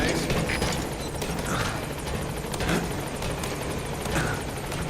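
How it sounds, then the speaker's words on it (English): A support helicopter sets down at a landing zone in Metal Gear Solid V: The Phantom Pain, its rotor thrumming loud and steady throughout with a rhythmic chop and dense engine roar. "Support helicopter has arrived."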